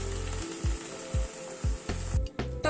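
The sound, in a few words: hot water poured into a frying chickpea curry, sizzling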